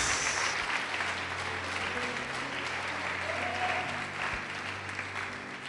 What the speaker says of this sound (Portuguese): Vamos aplaudir o Senhor, vamos glorificar Deus.